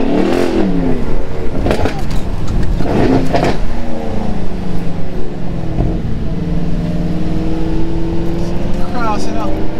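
A 2018 Mercedes E63 AMG with its bi-turbo V8 pulls hard, the engine note sweeping and rising through gear changes, loud and close from inside the car, with people talking over it.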